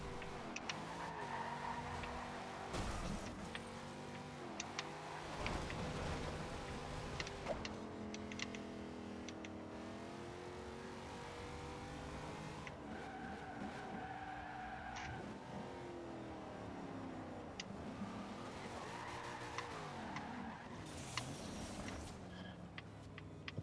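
A modified Nissan Fairlady Z 432 race car in Forza Horizon 2 drives hard with a steady engine roar, shifting gears and tires skidding and squealing through corners, continuous and moderately loud.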